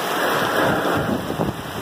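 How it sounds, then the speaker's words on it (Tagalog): Fierce Typhoon Ulysses wind in Angeles City, Pampanga, a loud, close, unbroken roar with slight gusting over a couple of seconds. "Galit na galit yung hangin."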